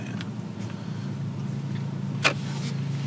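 A Volvo V60 T8 with a Heico exhaust idles with a steady low rumble close by, with one sharp click just past the two-second mark.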